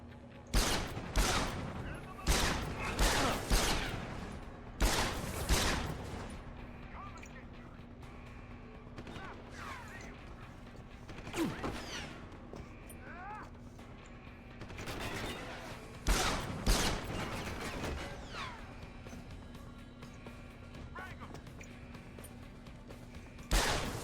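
Grenade explosions and gunfire in Deus Ex Human Revolution: a rapid cluster of loud blasts and crackling bursts early on, more scattered impacts later, over a steady hum, with a person talking intermittently.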